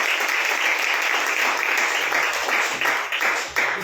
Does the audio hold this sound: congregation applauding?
yes